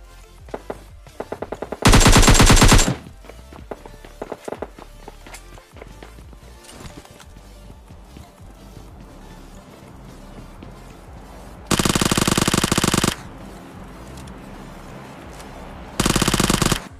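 Bursts of automatic gunfire from the mobile shooter PUBG Mobile Lite ring out in three loud volleys, separated by quieter stretches of running footsteps and scattered single shots.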